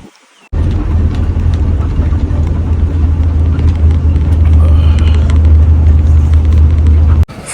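Heavy truck engine rumbling steadily and loud, starting abruptly and holding a deep, constant drone as the loaded vehicle pulls away, then cutting off near the end.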